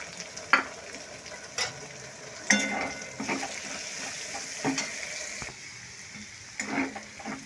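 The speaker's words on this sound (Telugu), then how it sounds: "ఇప్పుడైతే అదే ఆయిల్లో 1 కప్పు ఆనియన్స్ అయితే ఫ్రై చేసుకుందాం" A cup of onions fries in oil for a village-style curry, a steady low sizzle with occasional sharp spoon scrapes and pan knocks as they are stirred, close and fairly quiet.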